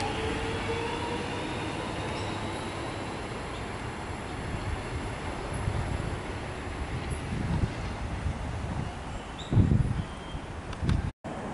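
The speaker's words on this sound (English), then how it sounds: "And the train's now departing." A Melbourne suburban train pulls out of Hawthorn station, a steady low rumble of wheels and carriages rolling along the track, with a few louder clunks and rattles near the end as it moves off.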